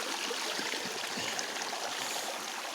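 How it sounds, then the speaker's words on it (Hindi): Loud, steady rushing of the Binsar river in Uttarakhand, a dense, unbroken roar close at hand with no voices. "पानी बहुत तेज़ से गिर रहा है तो उसकी बहुत तेज़ आवाज़ आ रही है।"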